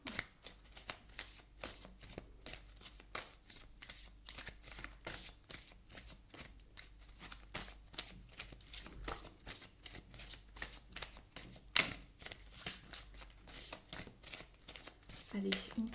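Tarot cards are shuffled close up in a rapid, continuous series of crisp riffling slaps and flicks, steady in rhythm throughout, with faint talking underneath.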